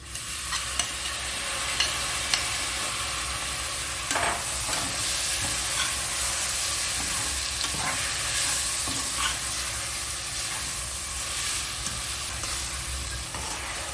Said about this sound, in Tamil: இஞ்சி பூண்டு வதங்கிட்டு இப்போ தக்காளியை போட்டு வதக்குவோம்.